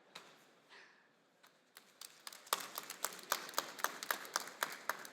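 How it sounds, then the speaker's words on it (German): A small audience at the AVcon 25 trade conference breaks into applause after a quiet start, with scattered claps swelling into a steady patter of individual hand claps, fairly close and moderately loud. "Und auch hier klappt es mit dem Applaus von ganz allein"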